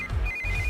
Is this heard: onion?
no